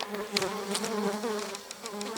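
Agitated honeybees swarm around a hive barrel, a dense, loud buzzing drone close to the microphone, with individual insects zipping past in brief surges and no voices.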